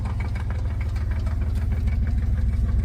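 A Chevrolet S10 engine knocks steadily at idle, a loud, continuous rapid low thumping with vibration throughout.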